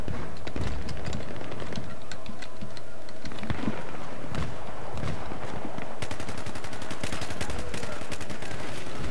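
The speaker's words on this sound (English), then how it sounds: "Oh, our guys are shooting the wrong way." Rapid gunfire bursts and single shots crackle through a Battlefield 3 team deathmatch on a canal map, loud, dense and continuous, with automatic fire rattling throughout.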